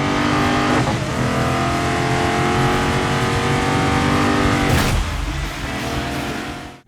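Continuous loud rally car engine from the DIRT 5 racing game, steadily revving with shifting pitch, a brief burst of tire or gravel noise near the end, no talk.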